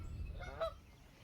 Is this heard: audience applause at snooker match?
no